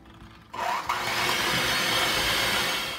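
An electric mixer starts up and runs steadily, churning butter and white sugar together for a Southern buttermilk pie filling, a loud continuous whirring drone after a brief quiet moment.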